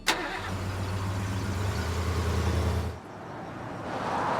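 A car engine turns over and runs with a steady low rumble for about three seconds, then cuts to quieter road noise as the vehicle moves on.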